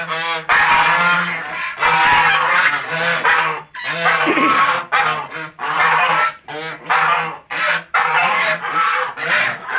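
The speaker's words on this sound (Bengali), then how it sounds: "এগুলো হচ্ছে রাজহাঁস।" A flock of about twelve domestic geese kept in a room honks loudly and close by. Overlapping harsh calls come in repeated bursts with almost no pause throughout.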